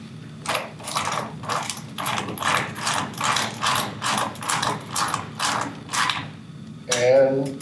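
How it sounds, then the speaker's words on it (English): A socket wrench ratchets to tighten the roller tube mounting of a manual crank Rainier Express screen. About a dozen steady, rhythmic clicking strokes come close by, ending in a brief metallic clank. "And take your socket, tighten it up."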